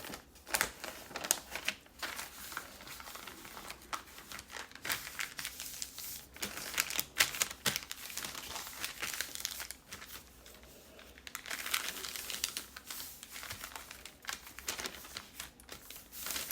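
Paper crinkles and rustles as sheets are trimmed for a Genesis bible study, with close, continuous scraping and crumpling textures and short crisp snips throughout.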